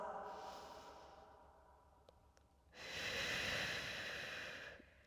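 A slow, deep breath during a Pilates mat session: a soft, long airy inhale, a brief pause, then a fuller, louder whooshing exhale that fades out, close and with no talking.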